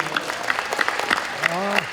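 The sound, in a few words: audience applause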